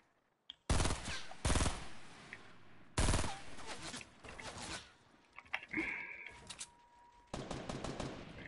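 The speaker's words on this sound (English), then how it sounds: "Why is this man shooting the floor?" Shotgun blasts ring out in a video game: loud, sharp bursts at irregular intervals, with several quick shots clustered together and quieter rattles and clicks between them.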